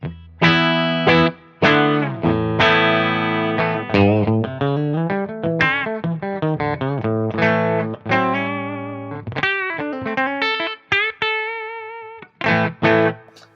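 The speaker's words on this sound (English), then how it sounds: "Now when I split that coil, totally different sound." An electric guitar with a split-coil bridge pickup plays a lively lick of bends and quick notes with a bright, thin, slightly distorted tone, solo and close.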